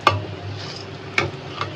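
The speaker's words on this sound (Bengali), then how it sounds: "একদম কড়কড়া করে ভাজছি।" Potato chops (aloo chop) fry crisp in hot oil with a steady sizzle, broken by a few sharp clinks of a utensil against the pan, and no one speaks.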